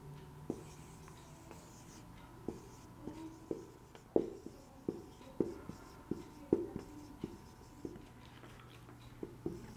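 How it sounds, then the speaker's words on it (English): Pen or pencil scratching a formula onto paper by hand, a quiet series of short, irregular taps and strokes, alone in a still room. "so let us write the formula here."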